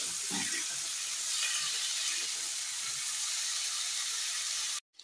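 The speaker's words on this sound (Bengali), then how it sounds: "এবার আলু পটলটা দিয়ে দিই, আলু পটলটা দিয়ে দিলাম, সুন্দর করে নাড়াচ্ছি।" Potato and pointed gourd pieces frying in a pan and stirred in a home kitchen: a steady, close sizzle runs for nearly five seconds, then cuts off abruptly.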